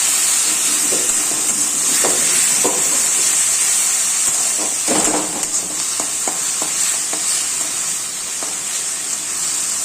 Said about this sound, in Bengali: সামান্য পরিমাণে জল দিলাম যাতে মশলাটা একটু ভালো করে কষে যায়